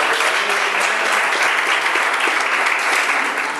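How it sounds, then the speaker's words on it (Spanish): An audience at a political gathering breaks into steady, dense applause that holds at an even level throughout, close and full with no speech over it. "Un aplauso."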